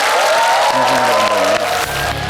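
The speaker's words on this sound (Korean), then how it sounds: "여러분께 먼저 스카트강 팀에게 감사의 박수를 좀 부탁드리겠습니다" Studio audience at a Korean celebrity lecture show applauding the production team, loud clapping with some cheering, under a sustained tone from a voice or music.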